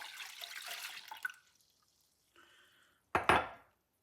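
Milk poured into a bowl of yeast mixture for lentil sandwich bread dough, a short close liquid splash and trickle that fades into quiet, followed by a brief clink of dishware.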